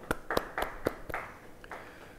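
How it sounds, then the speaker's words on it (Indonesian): People at a church Bible study clap, a short run of distinct, crisp claps at a fairly quick beat that thins out and fades, moderately close, with no talk. "Beri tepuk tangan bagi Dia."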